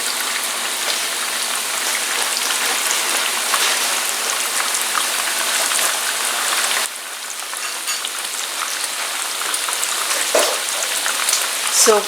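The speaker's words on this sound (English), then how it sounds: "So fry it until golden brown." Chicken taquitos frying in hot oil, a dense steady sizzle and crackle that fills the whole stretch, loud and close, briefly softening partway through before continuing with a few sharper pops.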